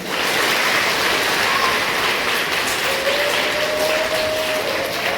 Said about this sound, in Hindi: इसलिए अपने लिए ताली बजाओ एक बार